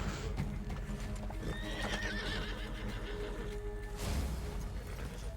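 A horse in Red Dead Redemption 2 whinnies clearly while its hooves clip-clop close by, the neigh rising over the steps near the middle, with no talk.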